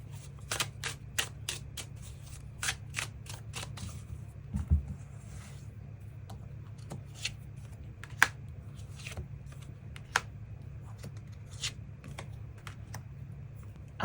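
Tarot cards are shuffled and drawn on a table, producing a string of crisp, close clicks and soft slaps in an irregular rhythm, with no voice heard.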